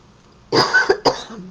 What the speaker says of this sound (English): You'll have to excuse my cough.